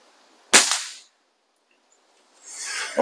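FWB 124 air rifle fired at a target, one sharp close crack with a short decay, followed about two seconds later by a softer impact or clatter and a final thump.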